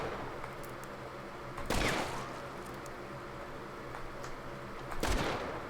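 Gunshots in Hunt: Showdown, two sharp, loud reports a few seconds apart over a quiet ambient background.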